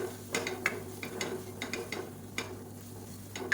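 Chili powder fries in oil in a pan for a parotta salna gravy, with quiet scraping stirs of a spoon over a soft, low sizzle. Irregular small knocks come and go through the few seconds.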